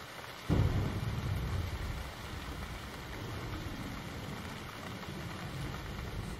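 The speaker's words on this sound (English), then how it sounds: "Today, I decided to make it rain." Artificial rain falling in a rattlesnake terrarium, a soft steady patter and hiss that starts with a brief louder splash and then continues evenly, faint and close.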